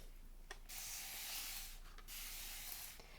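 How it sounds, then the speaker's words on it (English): A fine mister sprays water onto a paint palette in two long hissing bursts with short pauses and a faint click at the start of each spray. "I need to spray this palette again."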